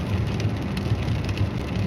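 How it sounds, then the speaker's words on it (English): Steady rain falling outdoors, a continuous, even hiss of drops with soft low rumble underneath, loud and unbroken throughout. "That's the kind of song we have to sing for the rain because it's all day."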